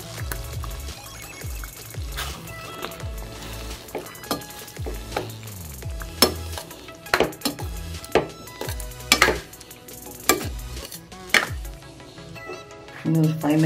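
Paneer cubes go into a bubbling kadai masala and are stirred. Close, repeated spoon scrapes and knocks against the pan ring out over a low sizzle, with a few louder clanks toward the end and no talking.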